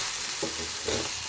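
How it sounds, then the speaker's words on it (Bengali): Boiled vegetables and mung dal frying together in a pan, a low, even sizzle with two soft stirring strokes from a spatula, close and unaccompanied by voices. "একটু ভাজতে হবে, একটু ভাজা ভাজা করতে হবে"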